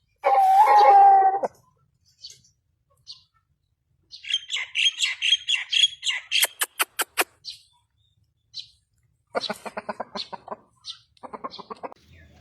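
A large Shamo rooster crows once, loud and close, then follows with scattered clucks and bursts of sharp, rapid calls separated by silence.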